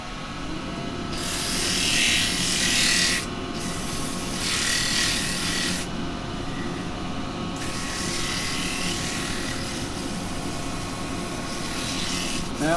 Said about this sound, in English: So now I can get a bit of sanding done on that.